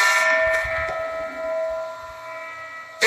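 A school bell rings steadily with a sustained metallic tone that holds from start to finish at moderate loudness, with no one speaking.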